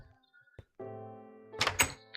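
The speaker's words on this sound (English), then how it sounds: "Shut the door." A door in a kitchen swings shut with a single close, dull thunk, followed by a brief latch rattle and a short tonal creak.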